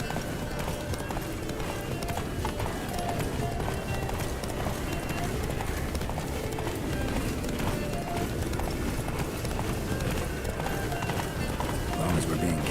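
Geralt's horse Roach gallops in The Witcher 3: Wild Hunt, with rapid, continuous hoofbeats throughout and voices talking over them.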